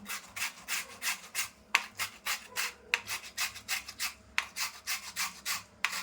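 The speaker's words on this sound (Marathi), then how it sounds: "सगळं किसून घे आता सगळे असं किसून घेते" A peeled, mature cucumber is rubbed against a grater in quick, regular rasping strokes, about three per second, close and clear with no voices.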